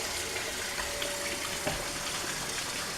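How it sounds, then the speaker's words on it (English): Water runs from a bathroom tap for hand washing, a steady soft hiss and splash at moderate distance, with a faint knock partway through and no talking. "Get my water running to wash this stuff off my hands"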